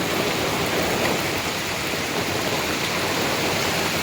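Wind-driven heavy monsoon rain falls on a cotton farm, a constant, loud, even wash of water noise that fills the whole stretch without a break.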